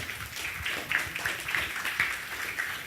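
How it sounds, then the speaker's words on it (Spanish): Audience applause following the introduction of the speaker at an inaugural science and technology lecture in a university hall, a steady patter of clapping holding at moderate level throughout with a few sharper claps standing out. "Por favor, un aplauso"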